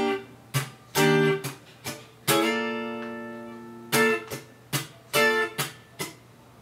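An acoustic guitar plays a rhythmic pattern of chord strums, a ringing sustained chord and quick percussive scratches, close and clear with no voices.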